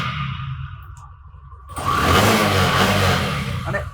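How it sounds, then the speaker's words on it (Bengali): An older Bajaj Discover 100cc motorcycle, a second-hand bike in fresh engine condition, idles quietly, then revs up loud and close and holds a raised, steady engine note. "মানে এত আগের মডেল বাইক যে এত সুন্দর সাউন্ড থাকবে এটা আসলে কল্পনার বাইরে।"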